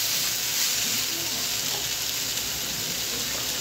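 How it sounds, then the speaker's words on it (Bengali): Chutney ingredients fry in a pan while being stirred, producing a constant, fairly loud hiss of sizzling with no pauses. "দিয়ে একটু নাড়াচাড়া করে নিই"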